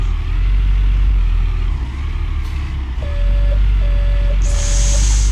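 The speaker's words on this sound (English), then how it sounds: "I had to move our dump truck." A dump truck in Gold Rush: The Game rumbles loudly with a heavy low engine drone, then gives three evenly spaced reversing beeps and ends with a short hiss like an air brake.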